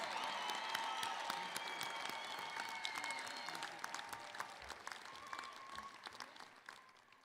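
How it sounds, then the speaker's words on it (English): Sustained applause from a large commencement audience for new doctoral graduates at a winter graduate ceremony, dense steady clapping that slowly thins and fades over several seconds. "Let's have a warm round of applause for all of our new doctoral graduates."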